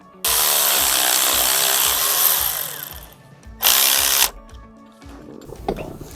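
A power tool spins a 10 mm bolt back into the shifter linkage of a Hemi Challenger, a loud steady high-pitched whir for a few seconds, a pause, then a second short burst, heard close and alone.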